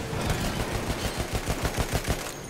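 A rapid rhythmic burst of AA gun fire in Battlefield 1, steady repeated thumps at close range running throughout with no talk.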